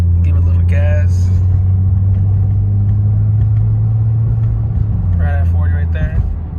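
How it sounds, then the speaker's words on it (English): A Lexus IS350 fitted with an Invidia mid pipe drones steadily at a low pitch throughout, with engine rumble swelling slightly under light throttle; faint brief voices break in near the start and again near the end. "So right here, I'm about to go give it a little gas."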